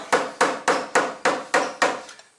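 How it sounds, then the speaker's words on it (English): Seven evenly spaced dull thuds of a dead blow hammer striking the fender of a Toyota Corolla AE92 during guard rolling, each hit close and firm with a short decay, the last one softer. "Take a dead blow hammer"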